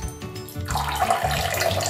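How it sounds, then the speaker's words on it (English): Bathwater streams from a small yellow cup with a hole in it, a close, steady splashing pour that starts partway in and keeps running to the end. "Good way to pour water on the baby."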